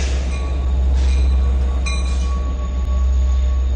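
A Long Island Rail Road train with a DE30AC diesel locomotive and cab car sits at Speonk station, its engine a loud, close, continuous rumble with faint metallic squeals and clinks on top.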